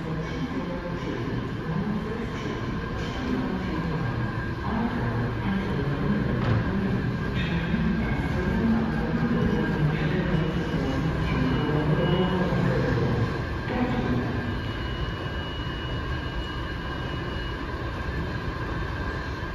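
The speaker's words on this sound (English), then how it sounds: "I think that should be the Silver Line train Ashburn coming 1 minute" A WMATA Metrorail Silver Line 7000 Series train rumbles steadily into Ballston-MU station, its low drone and clatter continuous and fairly loud throughout.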